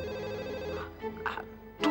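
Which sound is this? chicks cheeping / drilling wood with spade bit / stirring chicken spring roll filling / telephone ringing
telephone ringing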